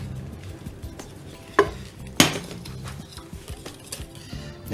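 Cornstarch, flour and grated coconut poured into a pan, a soft dry rustle with scattered light scrapes and two sharper clinks of utensil on metal, close and fairly quiet, no talking.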